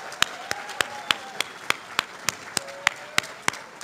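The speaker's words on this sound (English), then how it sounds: "Please give our teams another round of applause" A sparse audience at a student fashion design competition gives the teams a round of applause, a handful of distinct, evenly spaced claps over a faint background murmur.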